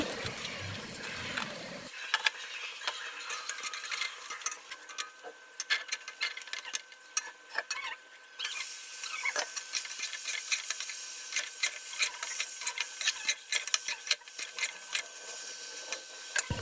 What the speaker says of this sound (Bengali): কড়াইতে মাংস দিয়ে আমি অনেকক্ষণ মাংসগুলো সুন্দর করে কষায় নিলাম